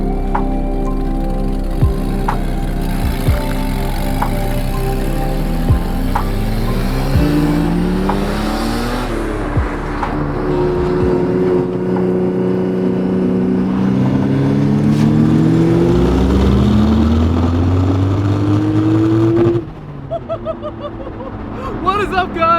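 A 1971 Datsun 240Z with a swapped 500 hp twin-turbo RB26 engine drives and revs hard, its pitch climbing through repeated accelerations, loud and close, with a sharp drop near the end and some background voices.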